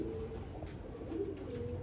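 Pigeons cooing softly nearby, low gentle coos repeating over faint background noise.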